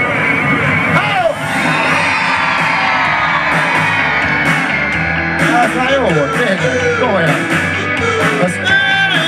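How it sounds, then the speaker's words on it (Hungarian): A crowd of adults and children at a family day event scream and cheer together in a loud, sustained burst after a countdown, with shouts and whoops rising and falling over several seconds. "És háromra, közösen, egy nagyot sikítunk, oké?"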